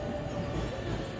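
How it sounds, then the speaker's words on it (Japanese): A JR 289 series limited express train on the Kuroshio service, converted from a 683 series car, rumbles steadily as it arrives at a station platform, heard close and continuous with no voices. "電車は間もなく入線ということなので少し入線まで待ちたいと思います。"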